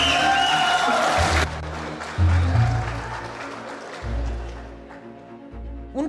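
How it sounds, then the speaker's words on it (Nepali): Extended applause fills a hall in Nepal after a political announcement at a CPN-UML party event, a steady wash of clapping from a large crowd, overlaid with a rhythmic low musical pulse. "उनको यो घोषणा पश्चात हलमा निकै बेर ताली बज्यो"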